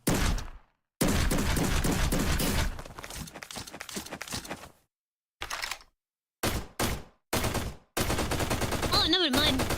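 Shotgun fire in a video game comes as loud, dense bursts of gunshots separated by sudden silent gaps, ending in a sustained roar that carries a rising and falling whine.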